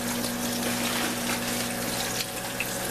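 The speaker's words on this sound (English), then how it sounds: "So you want to wash them real good, get all the dirt off of them" Squash being washed under running tap water: a steady, close rush of flowing water with a broad hiss and faint low hum, continuous and even without talking.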